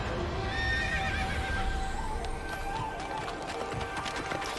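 A horse in the video game Okami neighs and whinnies repeatedly over rapid galloping hoofbeats, loud and close, with some talk underneath.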